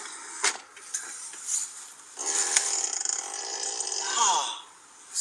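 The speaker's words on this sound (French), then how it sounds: "T'as pété" A rasping, sputtering fart-like noise sounds in short bursts, then a longer drawn-out blast that drops in pitch, with a brief exclamation from a voice.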